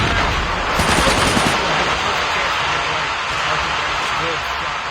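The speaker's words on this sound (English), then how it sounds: "No, Arctic finishes it off with the cordite. Good shot there" Gunfire in a 1v1 video game duel: rapid automatic bursts of shots over dense game noise, with a commentator talking throughout.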